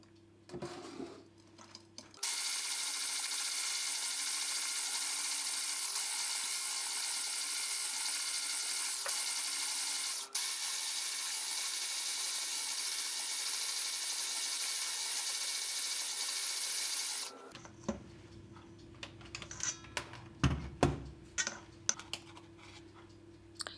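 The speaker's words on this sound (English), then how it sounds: "and whisk everything together." Orange cake batter with vanilla is whisked briskly in a bowl, a steady, dense rapid clatter running for about fifteen seconds close up, with softer handling sounds before and after.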